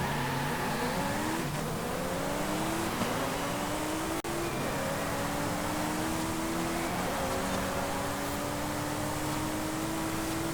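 Supercar engine in Forza Horizon 5 holds a steady, loud drone throughout, with rising rev sweeps and gear-shift dips that climb again, the car running continuously with no pauses.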